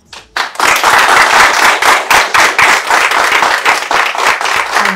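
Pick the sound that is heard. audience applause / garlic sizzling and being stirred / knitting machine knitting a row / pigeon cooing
audience applause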